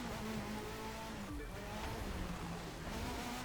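A rallycross Ford Focus in The Crew 2 launches off the start line with a steady, droning engine roar and shifting revs, the sound held at a constant moderate level throughout.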